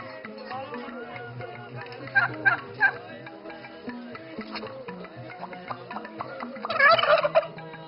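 Turkeys gobble in rapid warbling bursts, several overlapping calls nearby, louder near the end, with a faint voice in the background.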